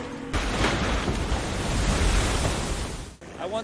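Rushing, churning river water fills a film scene after a character leaps into a river, a steady loud broadband wash lasting about three seconds before briefly dropping and resurging.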